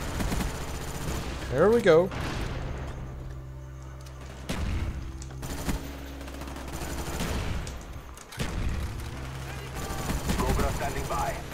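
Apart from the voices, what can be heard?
gunfire from the Famas rifle in the video game Call of Duty: Black Ops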